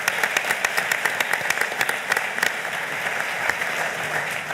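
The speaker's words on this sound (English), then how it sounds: "Please give them a round of applause." A crowd at a public policy luncheon breaks into steady applause, dense overlapping claps with sharper individual hand strikes close by, sustained at even loudness throughout.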